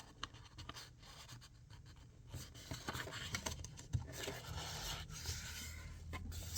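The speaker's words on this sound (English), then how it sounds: "I'm folding it in half and then in half again." A letter-size sheet of paper is folded in half and then in half again, with soft rustling, crinkling and rubbing creases coming in short bursts close up at low volume, and no talking.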